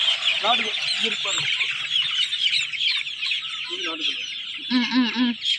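Chickens, including black Kadaknath-type hens, cluck and squawk in short bursts close by, with busy background chatter and noise throughout at a poultry market in Perundurai.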